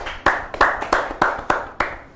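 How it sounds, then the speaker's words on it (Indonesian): At an event honoring Covid-19 burial volunteers, a small group gives a short round of clapping, seven distinct, evenly spaced claps ringing out close and clear with no talk. "sekali lagi boleh dong kita tepuk tangan untuk relawan kita"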